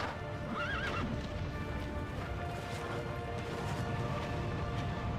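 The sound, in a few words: horse neighing in Castlevania Lords of Shadow video game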